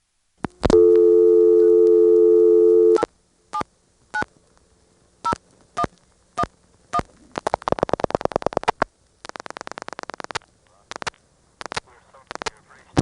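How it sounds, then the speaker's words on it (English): An ITT Pentaconta crossbar telephone exchange in Asheboro, North Carolina, in 1977: a long steady tone comes first, followed by sharp clicking pulses and warbling bursts as dialing continues while an intercept recording plays. "Again, you can hear the recording while the dialing is still going on."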